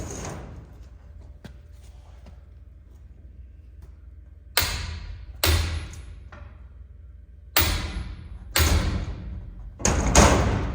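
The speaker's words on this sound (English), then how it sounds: "or knock it out of there." Sharp metallic knocks ring out on a VW Bus leaf spring, five heavy hammer-like blows spaced irregularly over a low steady background hum, close and loud.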